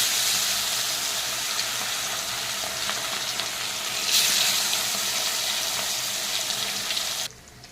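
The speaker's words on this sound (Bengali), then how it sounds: "আমার মাছ ভাজা হয়ে গেছে" Pieces of rupchanda (pomfret) fish fry in hot oil with a loud, continuous hiss and crackle that holds steady before dropping away sharply near the end.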